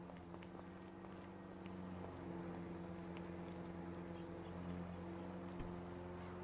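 A car engine idling steadily in the video game GTA V, a low droning hum with tonal bands, constant and moderately quiet with no voices.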